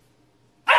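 A puppy indoors gives one sudden, loud, sharp bark after near silence, cut off abruptly at the end.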